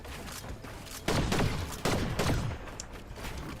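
Rapid bursts of gunfire from the video game Fortnite, several close, loud volleys of shots clustered over a few seconds with no voice over them.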